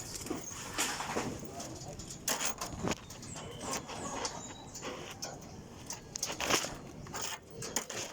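Pigeons feeding in a newly built loft give a dense patter of pecking and light fluttering, close and steady, with a soft murmur of voices or coos beneath.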